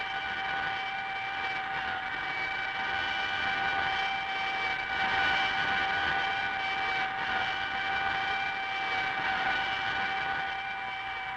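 A spaceship engine drones steadily during an emergency landing, a loud, constant whine with a sustained hum, unchanging for about eleven seconds and heard alone.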